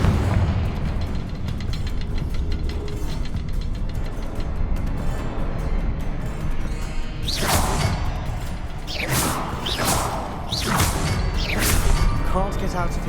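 Confringo blasting spell explosions in Hogwarts Legacy, several sharp booming bursts with whooshing tails arriving in quick succession late in the stretch, over a steady bed of game ambience and some talk.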